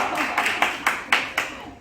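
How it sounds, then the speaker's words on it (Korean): Children clapping together in a church elementary Sunday school class during winter Bible school, a handful of loud, fairly rhythmic claps in quick succession, close by. "야, 하윤이 박수."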